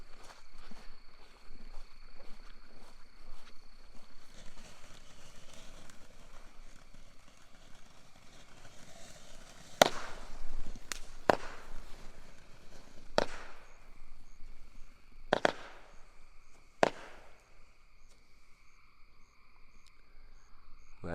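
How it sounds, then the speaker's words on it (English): A Desert at Night fireworks cake, a small hybrid consumer cake, fires outdoors at night: several sharp bursts and crackles go off in a loose sequence over steady insect and cricket chirping. "we're going to be lighting Desert at Night, one of my favorite cakes"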